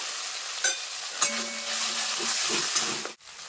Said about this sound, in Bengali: পেঁয়াজটা আমি একটু ভাজা ভাজা করে নিয়েছি এবার আদা রসুন বাটাটা দিয়ে দেবো